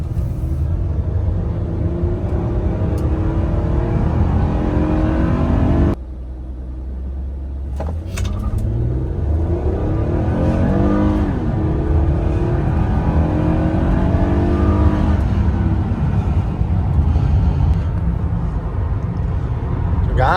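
A car with a cruiser feel takes off down a back road, its engine rumbling loudly and revving up through rising gear sweeps. The engine briefly dips and then pulls strongly again, close and continuous.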